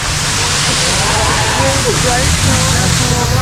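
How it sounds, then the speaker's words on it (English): A waterfall along the Ha Giang Loop in northern Vietnam sends out a loud, steady broadband roar that fills the whole stretch, with indistinct voices faintly mixed in. "all of a sudden I turned my head and I'm like, there's a whole waterfall"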